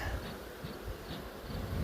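A dense, continuous buzzing of many bees fills the air, steady and close, with no voices.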